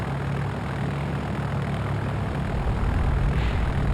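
A propeller airplane engine idles at a steady drone while taxiing in the Flight Unlimited III flight simulator, a constant close rumble with a slight rise toward the end.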